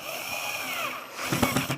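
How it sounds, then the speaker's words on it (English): Power drill driving a screw into wood without a pilot hole, a steady whirring motor for over a second, then a few louder, choppier bursts as the screw bites and seats, close and alone. "And now I am going to screw these in"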